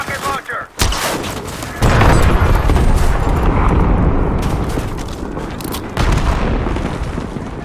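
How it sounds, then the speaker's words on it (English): A rocket launcher fires in the video game Call of Duty Black Ops 6 amid a loud booming barrage of gunfire and explosions, with heavy blasts continuing throughout and a voice briefly heard underneath. "Take it out with the rocket launcher"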